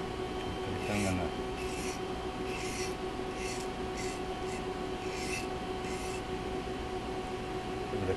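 A blade is pushed across an India sharpening stone in a series of repeated swipes, about seven soft rasping strokes roughly one second apart, steady and fairly quiet against a low background hum.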